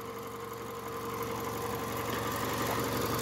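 A Toyota Avensis T25 with a 2.4-litre naturally aspirated petrol engine, automatic gearbox and timing chain, idling steadily and evenly up close, a continuous low hum with a faint mechanical ticking and no voices.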